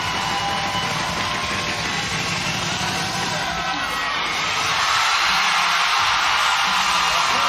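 A women's CrossFit semifinal arena crowd cheers on an athlete, a steady broad wash of shouting and whooping that swells slightly toward the end, constant and fairly loud.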